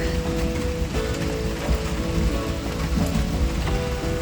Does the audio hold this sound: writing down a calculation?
no